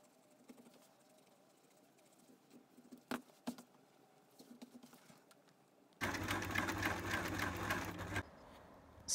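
A sewing machine stitches the bottom seams of a tote bag made from old jeans: quiet scattered handling taps and rustles first, then a loud steady mechanical whirring run of stitching for about two seconds before stopping.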